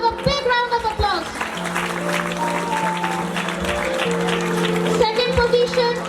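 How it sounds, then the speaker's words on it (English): Audience applause at a school annual day prize ceremony, steady clapping over about six seconds with a sustained tone and children's voices mixed in. "Let's have a big round of applause."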